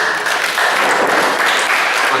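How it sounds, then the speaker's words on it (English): A crowd at a student council candidates' debate bursts into applause, a dense wash of clapping that holds steady and fairly loud for a couple of seconds. "let's give these people a big hand clap"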